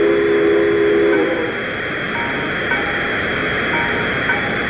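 A PRR S2 steam turbine locomotive rushes past with a loud, steady whoosh of broad noise, and a brief whistle-like tone sounds near the start before the roar continues on its own.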